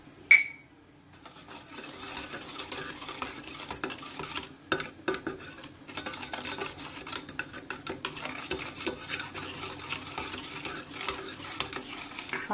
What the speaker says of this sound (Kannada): ಅದನ್ನು ಮಿಕ್ಸ್ ಮಾಡ್ಕೋಬೇಕು. ನೋಡಿ, ಇದಕ್ಕೆ 1/4 ಕಪ್ನಷ್ಟು ಆಯಿಲ್ ಹಾಕ್ತಾಯಿದ್ದೀನಿ